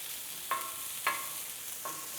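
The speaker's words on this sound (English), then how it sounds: "check the spaghetti squash and flip them over. So carefully using my spatula." Spaghetti squash frying in a pan gives a soft steady sizzle, broken by three light spatula scrapes and taps as the pieces are flipped; faint and close, with no talk.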